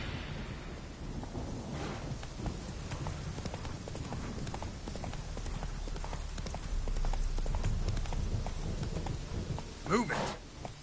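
Horse Roach in The Witcher 3 galloping: a rapid, steady clatter of hooves close by over a rumbling background, running continuously, with a brief voice late on.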